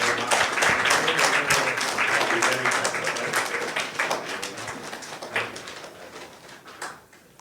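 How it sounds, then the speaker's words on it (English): Audience applause at an alumni Navaratri talk, sustained dense clapping that holds steady for several seconds and then gradually thins and fades out. "Please give a big round of applause to Dr."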